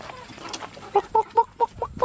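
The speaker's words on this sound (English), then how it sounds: "Look at that, chickens." Chickens cluck in a quick series of short, bright calls, about six in a row, close by over a faint outdoor background.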